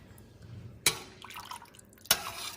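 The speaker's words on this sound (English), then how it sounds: "now I'm going to go ahead and give the pot a quick stir, and then I'm going to go ahead and scoop up some of the water" A spoon stirs a pot of meat and scoops up broth, giving two sharp clinks against the pot with soft liquid drips and sloshing in between.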